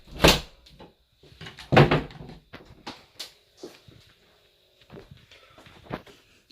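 A door is pulled shut indoors, giving several sharp knocks and thuds spread over a few seconds, with quieter bumps and rattles between them.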